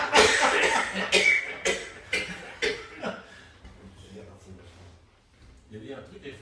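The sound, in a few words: cough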